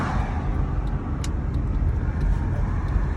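A car bought at auction being driven, heard from inside as a steady, loud road rumble and engine drone with no talk.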